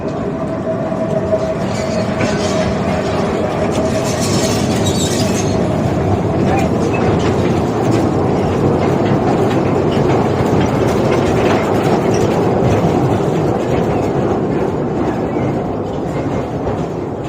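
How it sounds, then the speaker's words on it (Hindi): A small tourist train at the Khewra salt mine in Pakistan rolls past nearby, a loud continuous rumble of wheels and engine with faint clickety-clack, steady throughout with a voice heard faintly under it. "ये छोटी सी ट्रेन है जो आपको अंदर भी लेके जाती है और बाहर भी लेके आती है।"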